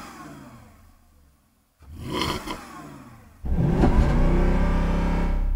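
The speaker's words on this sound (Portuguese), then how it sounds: "Bora escutar um pouquinho esse V8 do Porsche Cayenne." A Porsche Cayenne V8 being run without oil idles, drops almost silent, then revs up hard twice. The second rev holds loud and steady near a rev limiter, close to the engine with no talk.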